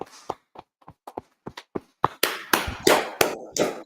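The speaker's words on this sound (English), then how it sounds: "All right, clap it up, clap it up." Scattered claps from a gathered audience, first a few sparse separate hits, then building into denser, louder clapping toward the end as more hands join in.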